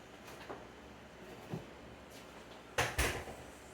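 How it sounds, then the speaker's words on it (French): An apartment door swung shut nearby, with faint soft knocks and shuffles first, then a sharp double thud as it closes and latches. "Fait que je vais aller fermer ma porte."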